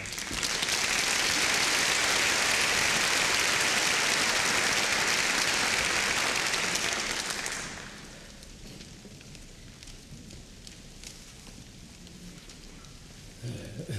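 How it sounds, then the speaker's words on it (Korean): A large conference audience applauds to welcome an elderly pastor taking the stage to speak on world missions; dense, loud clapping fills the first seven or so seconds, then fades into quiet room noise. "나오실 때 박수로 맞아주시기 바랍니다."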